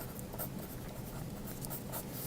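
A pen or pencil scratches across the back of a big sheet of paper while a name is written, a faint, close, continuous scribbling.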